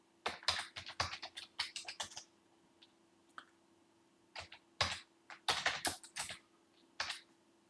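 Quick bursts of typing on a computer keyboard, close and clear, in several clattering runs separated by short pauses, with no talk over it.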